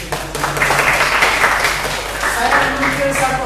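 A school classroom of students breaks into applause, a sustained wash of many hands clapping at once with voices chattering through it.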